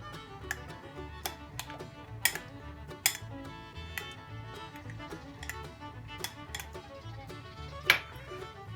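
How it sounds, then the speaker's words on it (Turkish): Lemon juice and lemon zest are stirred into half of a sugar-free banana ice cream mixture, giving light, rhythmic ticks and clinks over a soft, steady low background. "Yarısına limon suyu ve limon kabuğunu ekliyorum karıştırıyorum."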